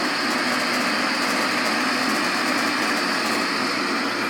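A Fitzpatrick Chilsonator L series roll compactor, model 1.5 x 8 with a stainless steel base and a horizontal feed screw, running with a steady mechanical whir and hum at moderate loudness.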